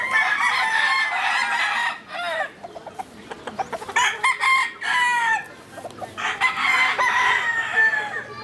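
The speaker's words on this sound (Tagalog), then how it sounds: "Dami yun ang manok dito kuya." Roosters crow loudly and repeatedly among clucking chickens on a farm with fighting cocks, several birds calling over one another nearby.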